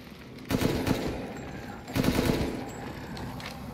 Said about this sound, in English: Can I just shoot him from here?